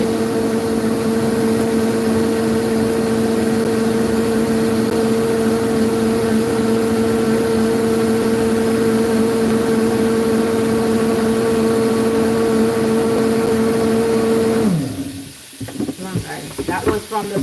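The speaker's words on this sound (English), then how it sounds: "That was from the blender" A kitchen blender making a smoothie whirs with a steady, loud motor drone for about fifteen seconds, then winds down abruptly and stops, leaving clatter behind.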